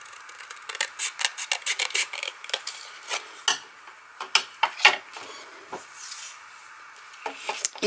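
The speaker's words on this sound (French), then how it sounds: "Donc je vais découper" Scissors snipping through a paper panel for a handmade exploding box, a quick run of crisp close cuts with short pauses, then a few more snips at the end, no voices.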